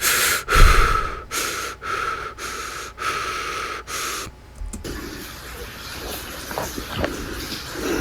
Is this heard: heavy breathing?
yes